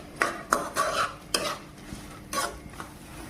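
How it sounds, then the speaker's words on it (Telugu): Cashews and almonds frying together in a pan for dry fruit kajjikayalu, with sharp scraping stirs and light clinks over a soft background sizzle, close and moderately quiet. "ఇప్పుడు బాదాం వేసుకోవాలి. రెండింటిని ఫ్రై చేసుకోవాలి బాగా."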